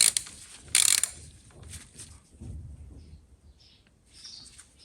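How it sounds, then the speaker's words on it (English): A ratchet tightens a bolt on the clutch of a Yamaha XJ600 Diversion motorcycle, giving a couple of sharp, close metallic clicking bursts followed by softer handling clatter and faint scattered clicks, with no talk. "Ratchet."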